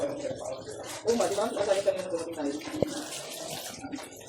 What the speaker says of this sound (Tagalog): May tulo na pala itong ano.